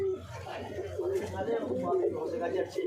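A Tafa pigeon of the Sukke-wala breed coos in low, soft, repeated burbling calls, close by, with people talking over it.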